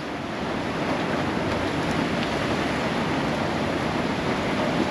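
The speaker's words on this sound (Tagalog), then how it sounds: "Hangin, ulan." Typhoon wind and rain lashing a house, a loud, continuous broadband roar with no breaks, steady from start to finish and heard without any voices.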